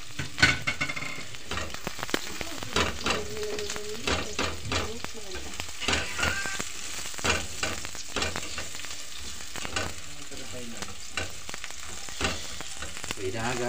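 Onions sautéing in a pan for lechon paksiw, a constant close frying sizzle with repeated scraping and clattering stirs of a spatula against the pan in an uneven rhythm.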